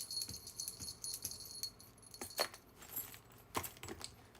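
Small keys on a keychain hung from trousers jangle and clink in short, irregular bursts, close and fairly quiet, shaken with movement.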